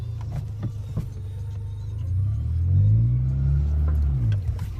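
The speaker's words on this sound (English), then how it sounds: "Give it gas. You gotta give it a lot of gas." A manual stick-shift car's engine rumbles at idle, then rises in a low revving surge as the gas is pressed, and settles back slightly. It is close and steady with no speech.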